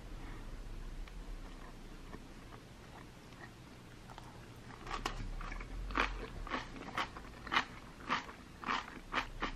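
Someone bites and chews crunchy pumpkin water kimchi up close. Faint rustling gives way to a steady run of loud, crisp crunches in the second half, with no talking.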